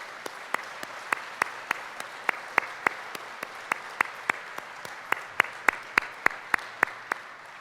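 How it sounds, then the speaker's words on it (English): Audience applause at an autonomous vehicle challenge awards ceremony: a steady, moderate wash of clapping with one sharp, evenly timed clap standing out above the crowd throughout. "a round of applause for everybody who helped put this together"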